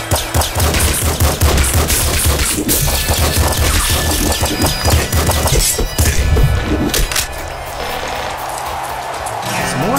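Rapid, dense gunfire from the fish character's weapon in Nuclear Throne, a loud continuous rattle of shots over a throbbing game soundtrack that thins out toward the end.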